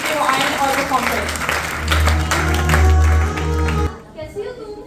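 Audience applause at a Christmas girls' youth program, dense clapping filling the room for several seconds with music and voices underneath, then cutting off abruptly near the end.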